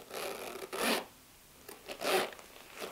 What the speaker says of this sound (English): And just listen to the zipper.